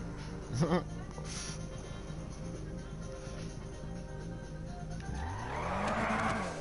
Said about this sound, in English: that sounds like some Need for Speed music in the background